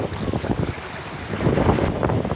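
Strong wind buffets the microphone at the sea while waves wash and churn underneath, a loud, steady rush with no talk.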